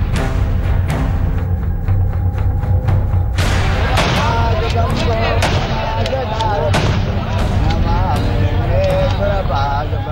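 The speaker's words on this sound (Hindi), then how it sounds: "ध्यान से सुनने पर आपको गोलियों की आवाज भी आ रही होगी" Sharp celebratory gunshots ring out repeatedly at a wedding over loud, continuous crowd noise and voices, with dense, busy background clamor throughout.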